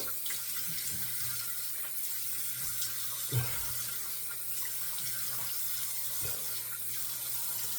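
Water runs steadily from a tap into a sink as a face is wetted before shaving, a constant hiss with a few faint splashes and knocks, and no voices.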